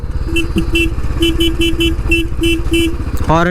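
A Royal Enfield Classic 350 sounds its horn in a series of short, loud beeps over the close, thumping idle of its engine, ending in a brief rising whine.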